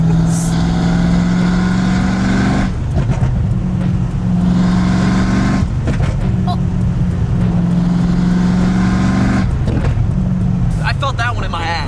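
Ford Mustang Foxbody with SLP Loudmouth exhaust dumps revving hard and loud, its deep idle rising into repeated surges, with voices heard over the engine.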